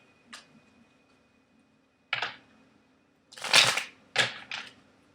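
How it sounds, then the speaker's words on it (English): Tarot cards being shuffled in a short reading setting: a faint flick, then several dry, papery riffles and slaps in quick bursts, close and fairly soft, with no talking. "Let me just shuffle this."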